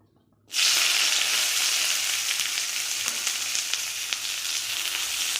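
Onions hit hot mustard oil in a wok and burst into a loud, steady sizzle that holds close and constant after a moment of near silence.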